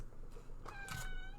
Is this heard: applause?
no